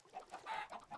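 A Minecraft chicken on an automatic farm gives a few quick, soft clucks in about a second, close and alone.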